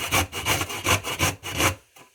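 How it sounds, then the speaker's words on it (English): Small washed organic golden beets rubbed against a grater in a home kitchen, about seven rhythmic rasping strokes close to the microphone, then a short pause and a faint final scrape. "Now I'm going to grate them"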